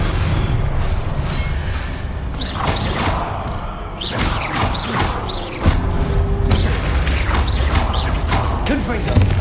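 Confringo fire spells in the Hogwarts Legacy game, a string of sharp blasts and whooshing bursts over a dense, busy game soundscape with mechanical clatter and low rumble throughout.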